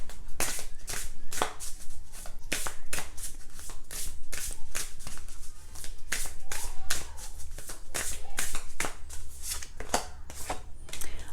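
A new tarot deck is shuffled by hand, giving rapid riffling card snaps that repeat in steady bursts, up close and fairly quiet.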